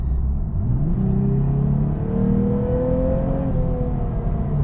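A 2024 Lexus IS350 F-Sport with a naturally aspirated engine accelerating, its steady engine tone climbing in pitch through the gears as a continuous close-up hum from inside the car.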